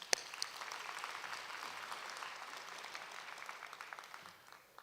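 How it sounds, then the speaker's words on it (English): Steady audience applause fills a public health conference hall, many hands clapping at an even, moderate level that tapers slightly toward the end. "let's give a round of applause"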